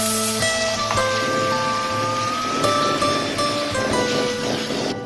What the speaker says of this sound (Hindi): अब यहाँ पर डाल दें भीगी हुई चने की दाल।